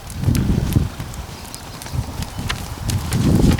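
Horse hooves at a posting trot, a steady two-beat rhythm of dull thuds on soft ground, close and fairly loud, alone without talk.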